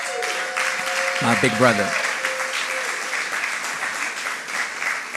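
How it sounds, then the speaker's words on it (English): An awards-gala audience applauds steadily throughout in a broad, sustained wash of clapping, while someone speaks briefly over it near the start. "Y'all clap it up for my brother Marlo"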